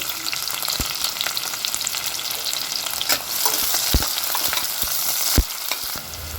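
Ginger, garlic and onions frying in hot oil in a home kitchen, a dense continuous sizzle with occasional knocks of a spoon against the pan, loud and close with no talking.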